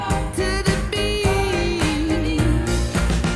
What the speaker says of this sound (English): There's also a clap with the snare.